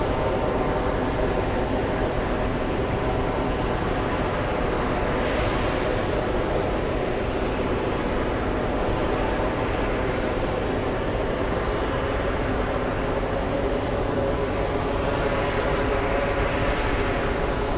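A jet airliner landing at JFK airport, a loud continuous engine roar and rushing rumble that swells and ebbs slowly, with a steady high whine running throughout and no voices.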